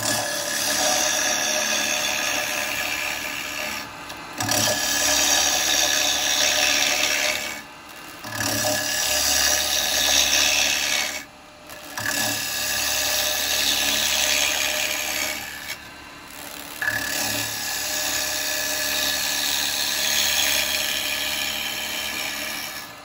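A wood lathe spins a maple bowl blank as a carbide tool cuts, a loud sustained scraping hiss that breaks off briefly every few seconds before resuming.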